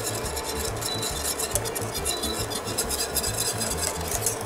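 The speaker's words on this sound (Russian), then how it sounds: "перемешиваем муку, чтобы она не взялась комочками, и потом остальное. Все это тщательно перемешиваем." A utensil scrapes and stirs briskly in a pan as flour is worked into béchamel sauce for lasagna, a close, rhythmic rasping that repeats steadily without any voices.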